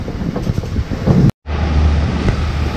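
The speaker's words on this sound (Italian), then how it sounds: "Ci sono un po' di onde atlantiche" Atlantic waves and steady wind roar past a motor boat off the coast of Spain near Cape Finisterre, a constant loud rush with a brief dropout partway through.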